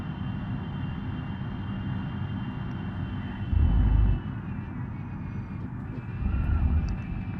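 A Renault Megane 1.4 engine in the BeamNG.Drive driving game drones with a high, strained screech on the Nürburgring, a constant loud tone that surges briefly twice.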